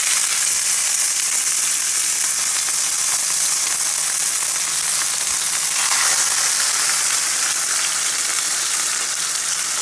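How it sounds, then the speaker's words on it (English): Salmon fries in a pan over medium-low heat, giving a dense, even, loud sizzle that hisses steadily throughout without a break, heard close and alone. "Try to cook the salmon on not very low heat, but not medium either, like just right in the middle. And then you just throw it on there."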